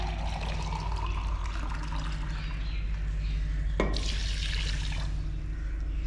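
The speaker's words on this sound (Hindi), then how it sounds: "आधा लीटर पानी और आधा लीटर एक और डाल देती हूँ।" Water pours into a pot of sugar to make syrup, a continuous liquid splashing and trickling over a steady low hum, broken by one sharp knock near the end.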